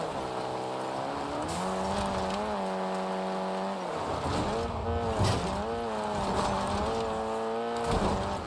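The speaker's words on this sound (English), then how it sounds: "this car is really loud." A loud car engine in the shooter game Warzone drones steadily with strong harmonic tones, its pitch dipping and climbing as the vehicle shifts and accelerates, close and dominant throughout.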